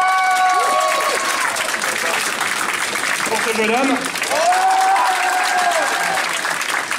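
A crowd applauds continuously while someone speaks over it, clapping staying steady and full throughout.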